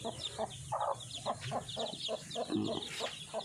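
Khao Kho native hens cluck repeatedly in short, overlapping bursts, close by, while being fed red azolla, with faint chirping and farmyard bustle in the background.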